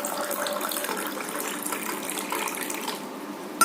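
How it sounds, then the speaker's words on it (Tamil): Cold water from the fridge pours steadily into a glass of nannari sharbat, a continuous close gushing splash lasting a few seconds before a brief clink at the end. "இப்போ இதில் கோல்டு வாட்டர் ஆட் பண்ணிக்கிறேன்."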